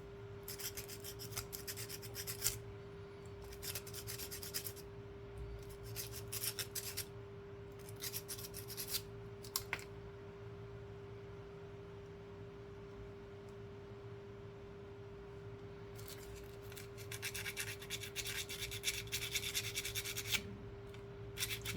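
Very fine sandpaper rubs a 1977 Danish 25 øre coin ring in quick bursts of soft, raspy strokes, separated by pauses, over a steady low hum.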